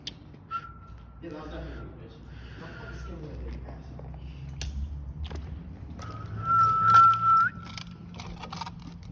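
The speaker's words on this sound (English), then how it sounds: "I can't whistle that well." A person whistles a few thin, wavering tones, a short one early and a longer, steadier one near the end, close by amid low background rumble and shuffling.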